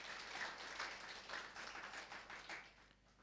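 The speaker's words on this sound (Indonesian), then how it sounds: "Kita berikan tepuk tangan buat Tuhan Yesus." A congregation at a Sunday worship service claps, a faint, fairly distant patter of many hands with loose pulses that fades toward the end.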